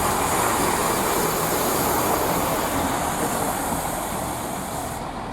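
A Class 165 diesel multiple unit rumbles steadily past at Kings Sutton station on the Chiltern Main Line, a loud, continuous broadband roar that holds for several seconds and eases slightly at the end.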